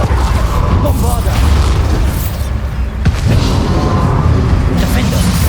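Booming spell explosions and bursts from combat in the video game Hogwarts Legacy, loud and continuous, with a sharp blast near the middle amid layered game effects.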